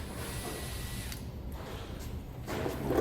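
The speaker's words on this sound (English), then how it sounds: "you're using a gun to start the screws, yeah, it's on super, super, super light pressure" A power gun set to very light pressure drives screws during a transmission fluid and filter change, giving a soft, close ratcheting whir that pauses briefly and then picks up again.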